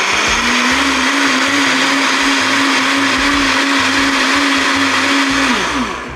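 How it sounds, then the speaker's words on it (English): A blender purees on high speed for a shrimp cocktail, a loud continuous motor whine close up that holds steady before winding down at the very end. "Now we're gonna puree on high."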